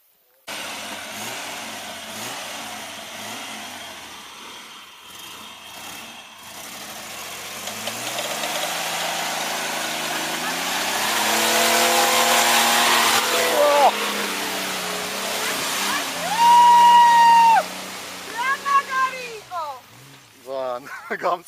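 A Mitsubishi Pajero's engine growls and revs while off-roading on the Tskruleti–Didgori–Orbeti route, rising in waves to loud surges near the end, with voices mixed in.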